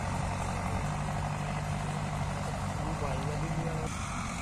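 A Sonalika Tiger 60 tractor engine runs steadily close by, a low rumbling idle with a constant hum, under background talk.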